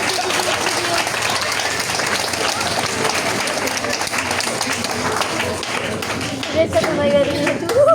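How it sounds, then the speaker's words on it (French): Audience at a hypnosis stage show applauds loudly, dense sustained clapping filling the room for several seconds, with a voice briefly heard near the end. "Et les applaudissements très très fort."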